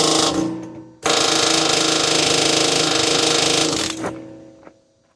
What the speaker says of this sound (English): Sometimes a big hammer helps now.